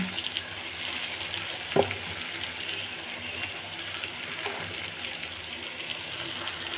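Fish roe is dropped into a pan of spice masala that is being fried down, giving a soft, steady sizzle with one dull thud as the roe goes in, then quiet frying continues.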